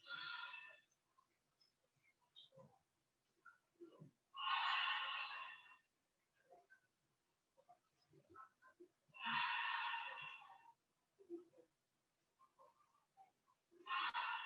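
Slow, deep breaths during a yoga flow, each long airy exhale rising clearly above quiet surroundings, repeating about every five seconds with softer rustles between.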